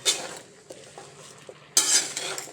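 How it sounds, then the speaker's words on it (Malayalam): Chili powder, green chilies and vegetables being stirred in a pot for aviyal, with a spoon scraping and clinking against the metal in uneven strokes and a louder scrape near the end, over a faint sizzle. "നല്ലപോലെ എല്ലാം കൂടെ ഇളക്കി കൊടുക്കണം"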